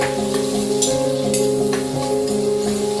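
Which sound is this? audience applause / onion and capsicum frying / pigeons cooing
onion and capsicum frying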